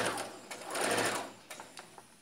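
A sewing machine stitches a men's shirt in a short run of close, busy mechanical whirring that swells in the middle and ends in a few separate clicks and thumps.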